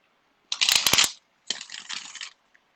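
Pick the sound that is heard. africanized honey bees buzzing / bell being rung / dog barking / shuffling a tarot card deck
shuffling a tarot card deck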